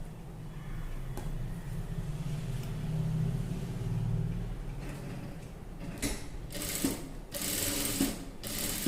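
A sewing machine stitching doubled blouse neck fabric layered over buckram cloth, a low steady mechanical whir that ends in a few sharper rattling bursts, close and fairly quiet with no speech.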